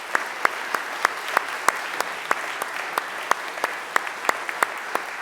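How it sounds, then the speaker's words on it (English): A chapel audience applauds at a Thursday service, steady diffuse clapping with a few sharper individual claps standing out, moderately loud and continuous through the clip. "Give him a round of applause."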